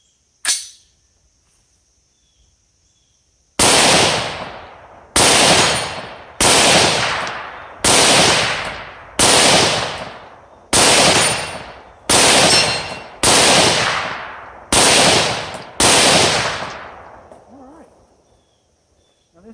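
An AR-15 rifle with a longer barrel fires ten loud, sharp shots outdoors at a slow, even pace, each one leaving a long echoing decay before the next.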